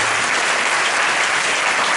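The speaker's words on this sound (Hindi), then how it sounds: "तुम्हारा चंगा करने वाला परमेश्वर के लिए ताली बजाएंगे जोरदार।" A church congregation claps loudly and continuously, a dense, even burst of applause filling the room with no break.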